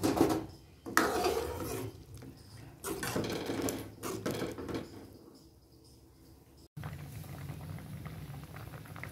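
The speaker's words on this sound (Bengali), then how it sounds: "ডালে দিয়ে দেব। ভালো করে নেড়ে নেব।" Chopped tomatoes being stirred into boiled dal in a pot, wet churning and bubbling bursts in uneven stretches with clattering of the pot, then a steady simmering hiss toward the end.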